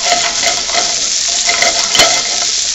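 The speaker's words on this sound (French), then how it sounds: "ça c'est notre deuxième batch de boulettes. C'est juste pour les faire cuire un petit peu de chaque côté" A second batch of meatballs fries in a pan with a loud, dense, constant sizzle and crackle, plus a sharp clack of a utensil partway through, with no talk.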